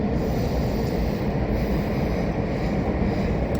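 A regional train running towards Mainz main station makes a loud, continuous rumble with dense rattling from the wheels, heard from inside the carriage without a break.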